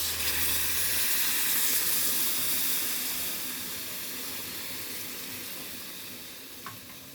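Hot water is poured into a pan of frying banana stem, which sets off a loud hiss and steamy sizzle. The sound gradually fades to a gentle simmer, and near the end there is a single small tap.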